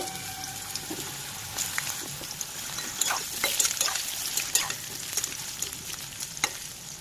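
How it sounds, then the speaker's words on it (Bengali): Oil sizzles and crackles steadily in a pan of frying eggplant slices, with scattered pops and occasional stirring scrapes, close and moderately loud. "এরপরে বেগুনগুলো ভেজে নেব"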